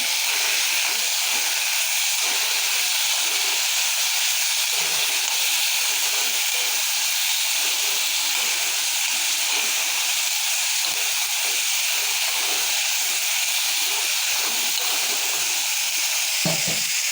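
Green chillies sizzle in hot oil in a pan while being stirred for an okra, tamarind and chilli curry, giving a steady, loud hiss that runs unbroken throughout with faint scraping underneath.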